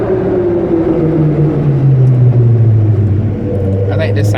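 BMW E60 M5 V10 engine revving and pulling hard, a loud, rising-and-falling engine drone heard from close by, with voices speaking over it.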